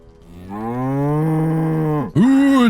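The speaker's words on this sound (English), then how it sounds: "The dice just don't want us to communicate with this cow." A cow in Baldur's Gate 3 gives one long, loud, close moo that holds steady, then bends down and rises into a brief second bellow at the end.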